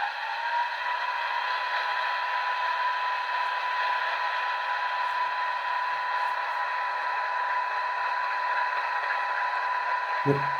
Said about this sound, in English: Now that's the sound of the compressor going